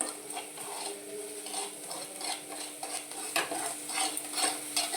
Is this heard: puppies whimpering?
no